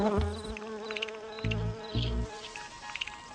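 Solitary bees buzz around flowers close by, several short droning bursts coming and going over a quiet background.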